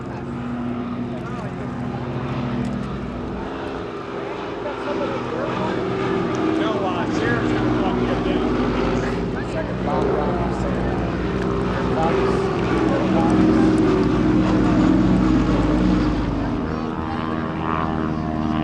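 A Grumman Widgeon seaplane's propeller engines drone steadily at a lakeside fly-in, the rumble swelling louder as the aircraft passes close, with people talking faintly beneath.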